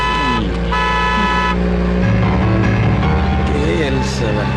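A car pulls up in a Malayalam action movie scene, its engine rumbling loudly alongside repeated horn toots and a musical score, with voices speaking over the noise.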